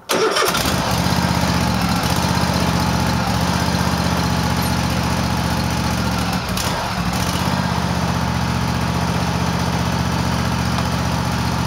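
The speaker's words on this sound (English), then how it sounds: "There's a cold start. Runs nice and smooth now." A repaired Cub Cadet tractor engine cold-starts with a quick crank, then settles into a loud, steady, close idle that runs evenly and smoothly with only a brief wobble partway through.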